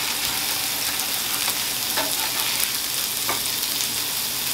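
Salmon sears in a hot pan, giving a constant close hiss and crackle of spitting oil with a few sharper pops, and nobody speaks.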